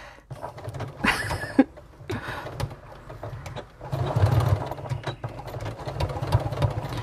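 A sewing machine reverse stitches at the start of a tote bag seam, its motor running in uneven stretches with short stops and a few sharp clicks in between.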